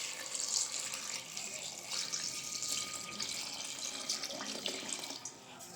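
Water pours steadily into a cooking pot to make a greens and lentil curry, a continuous close splashing stream with no talking.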